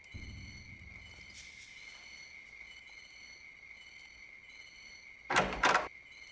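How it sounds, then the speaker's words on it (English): Loud, steady cricket chirping from a Sega Dreamcast game soundtrack, a continuous high insect drone throughout, with a brief sliding, thudding sound near the end. "Damn, these crickets be loud,"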